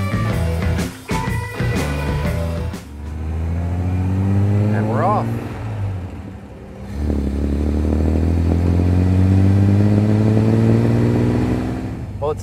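A 1961 Austin Healey 3000 engine rising in pitch through the gears, with revs climbing, dropping at a shift, then climbing again, heard close and loud alongside some talking.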